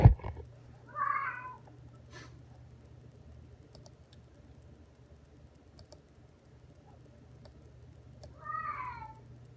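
A cat meows twice, one call near the start and one near the end, heard fairly close, while faint keyboard typing clicks and a low hum continue in the background.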